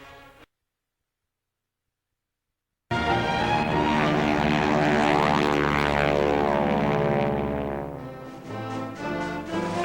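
A propeller-driven bomber flies past in wartime RCAF footage, its engines a loud, steady droning roar that swells and then slowly fades. The roar follows a brief snippet of sound and a stretch of silence.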